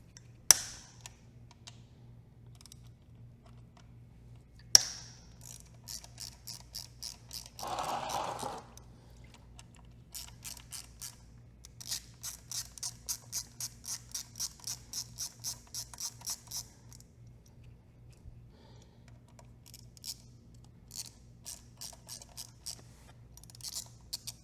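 Screws being backed out on an MV Agusta F4RR motorcycle during a water pump install, a repeated ratcheting click in several bursts, close and fairly quiet, with a few sharper knocks and a brief rustle, no talking.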